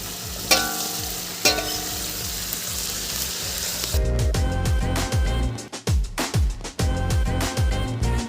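Marinated biryani chicken fries in spices in a hot pan, sizzling loudly and steadily, with a few sharp clatters at first and then rapid stirring scrapes and bursts of crackling.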